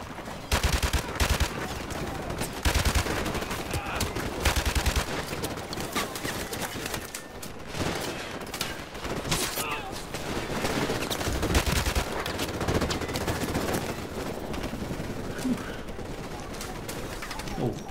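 Rapid bursts of RPD machine gun fire in Call of Duty: Modern Warfare Remastered, loud, near and dense, with repeated rattling volleys across a busy combat scene.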